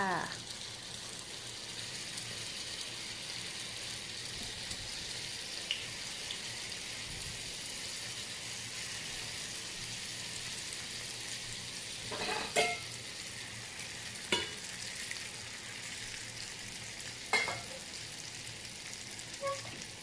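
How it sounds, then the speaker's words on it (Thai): Spring rolls deep-fry in hot oil over medium heat, giving a steady, close crackling sizzle. Now and then a sharper pop or light clink rises above it. "อันนี้น้ำมันร้อนได้ที่แล้วค่ะ เปิดไฟปานกลางนะคะ ไม่ต้องแรงมาก แล้วก็ใส่ปอเปี๊ยะเราลงไปเลยจ้า"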